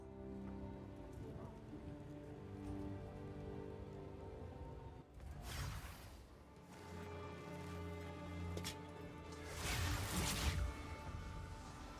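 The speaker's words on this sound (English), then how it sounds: "Rain." Rain in the game Runes of Aldur (Path of Exile 2): steady patter of rain on a surface, with sustained musical tones underneath and a denser downpour swelling near the end.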